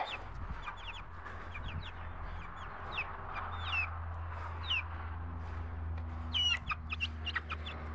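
Several chickens cluck and call outdoors near their coop, a steady scatter of short clucks and squawks over a low background hum, with a louder burst of calls near the end.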